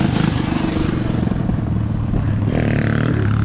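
Small scooters rev loudly as they pass close by in the street in Cloquet, Minnesota. The engine buzz holds steady throughout, then a higher whine rises near the end.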